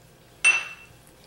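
A utensil stirring chopped Roma tomatoes clinks sharply once against a bowl, followed by a short fading ring in an otherwise quiet room.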